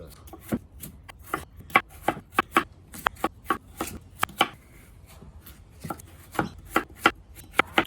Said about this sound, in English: You want to cut these into about yay big chunks, not nay big.